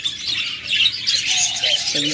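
Small Japanese birds kept for breeding chirp rapidly in a busy, high twittering cluster, close by, with a brief lower squawk near the end.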